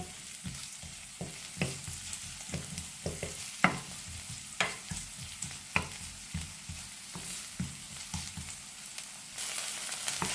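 Onions fry in a pan until translucent, a constant sizzle broken by regular clattering stirs and spatula taps against the pan, close and without speech.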